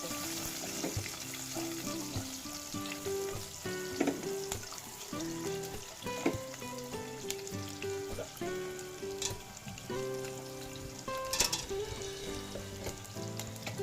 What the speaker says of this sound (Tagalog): Igisa natin itong ahos.